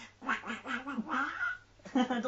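A voice imitates Donald Duck's quacking speech, producing a run of nasal, garbled duck-like syllables in quick bursts at moderate volume.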